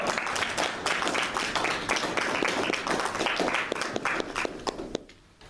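Audience applause from a crowd at a speech event, dense clapping that holds steady for several seconds before tapering off at the end.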